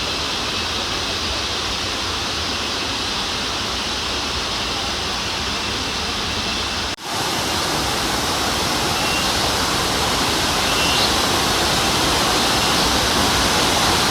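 Abbi Falls roars as a dense, steady wall of rushing water, loud and close, continuous for the whole stretch with one brief dip midway and no voices.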